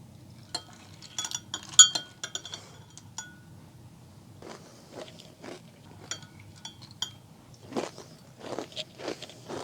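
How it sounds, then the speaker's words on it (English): Close, loud crunching as Special K pumpkin spice cereal is chewed, with irregular bursts of crisp crackles in two clusters separated by quieter chewing, no talk. "these are really, really crunchy, like uncomfortably so. First of all, they are very loud in my ears"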